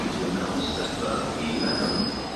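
A train rolls through Exeter St David's station with a loud, continuous broadband rumble and a thin high wheel squeal on top, close by and with no pause.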